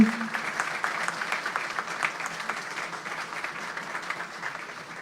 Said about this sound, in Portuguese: eu peço uma salva de palmas ao Dr. Arnaldo